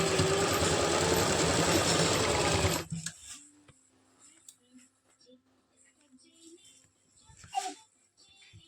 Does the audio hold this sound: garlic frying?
no